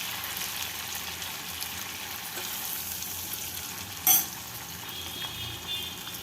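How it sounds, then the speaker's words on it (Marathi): Onions sizzle steadily in a hot pan while sautéing, a constant frying hiss with a brief clatter of a utensil partway through. "कांदा चांगलं परतून जायचं"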